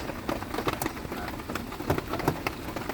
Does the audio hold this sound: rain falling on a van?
yes